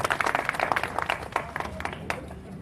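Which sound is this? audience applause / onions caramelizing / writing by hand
audience applause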